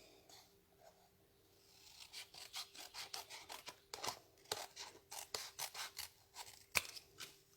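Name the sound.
scissors trimming card paper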